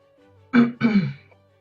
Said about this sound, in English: I'm still coughing, yes, but it is starting to do a little better